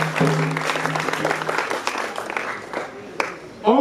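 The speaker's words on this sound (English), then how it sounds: "Can you clap for them, please?" Audience at a high school old boys' reunion assembly in Edo applauding teachers, scattered clapping running under a speaker's voice for a few seconds with a louder burst near the end.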